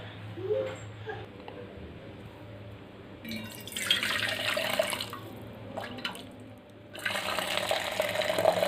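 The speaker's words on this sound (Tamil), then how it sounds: "இந்த தண்ணியை வடிச்சிடலாங்க." Hot water pours and splashes in bursts as it is drained from cooked macaroni, a heavy stream draining off, stopping briefly and then gushing again, close up.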